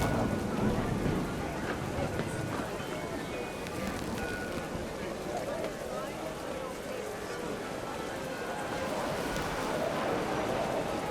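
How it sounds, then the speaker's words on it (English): Heavy rain pours down steadily in the video game What Remains of Edith Finch, a dense, continuous hiss that holds at an even level throughout, with a low rumble underneath. "The rain came down in buckets then"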